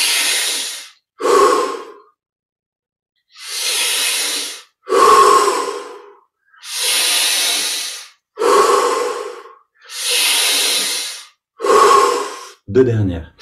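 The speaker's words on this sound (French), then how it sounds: "Cinq respirations, plus que 5 respirations, pour saturer le corps en oxygène." Deep breaths in a yoga breathing exercise, roughly eight long, forceful inhales and exhales close to the listener, separated by short pauses, with no talking.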